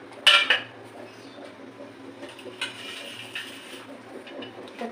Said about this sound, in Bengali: এবার মশলাগুলোকে আমি একটা প্লেটের মধ্যে ঢেলে নিচ্ছি।